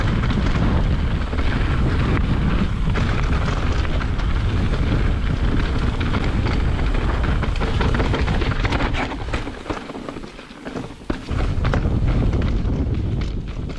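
Strong wind buffets the microphone on a Utah mountain bike trail, a loud continuous roar of gusts and rumble that dips briefly before surging again, with no one speaking.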